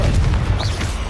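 Confringo blasting spell exploding in the Hogwarts Legacy video game, a short dense boom with low rumble lasting about a second, close and fairly loud with a brief whooshing tail.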